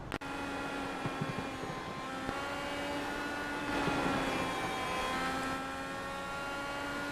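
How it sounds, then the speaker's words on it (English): A race car engine in an IndyCar sim racing game at Watkins Glen, a sustained whining drone with rising and falling pitch as the car speeds through corners, steady and prominent, with no speech. "listen to the sound of the engine"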